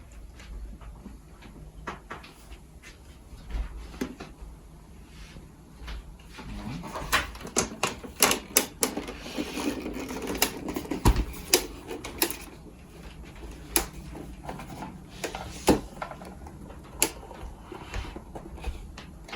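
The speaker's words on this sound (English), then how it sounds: "Now we are going to flip this keyboard upside up" A Yamaha P90 88-key graded hammer digital piano is flipped over and handled during a repair, giving close clunks, knocks and rattles that grow busier midway, then settle into scattered taps.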